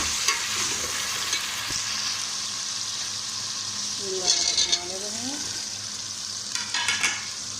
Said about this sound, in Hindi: अब इसमें हम टमाटर डाल लेते हैं, साथ ही हम इसके आलू भी डाल लेते हैं।